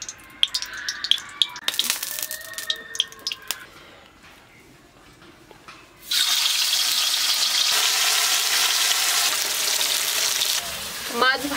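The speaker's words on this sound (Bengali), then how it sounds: "এবার তেল দিয়ে দেবো মাছ ভাজার জন্য।" Fish fries in oil in a hot kadai. A few clinks and light kitchen knocks come first, then a loud, sustained sizzle bursts in and hisses steadily to the end.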